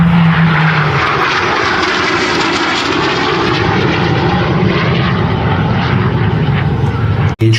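Hawker Hunter jet at full power in an airshow display, a loud sustained engine roar and rushing whine holding steady and close throughout, briefly cutting out near the end.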